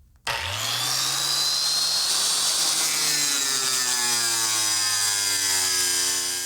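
A power cutting tool runs steadily through the metal of a replacement car fender during rocker panel work, a loud continuous whine with a rising tone that holds for several seconds after a sudden start.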